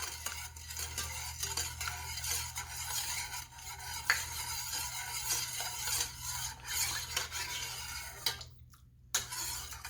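A spoon stirs cane sugar into tea until it dissolves, a steady close scraping and clinking against the container that runs continuously with a brief pause near the end.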